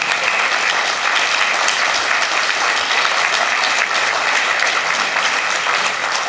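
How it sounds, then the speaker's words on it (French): Dense, sustained audience applause at the closing session of the 2021 geography festival, loud and even throughout, with many hands blending into a continuous wash and no speech over it. "On peut vous applaudir."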